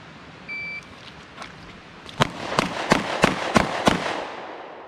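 A pistol fires six sharp, evenly spaced shots in quick succession during a moving Bill drill at roughly seven yards, following a short electronic timer beep.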